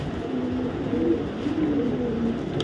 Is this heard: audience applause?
no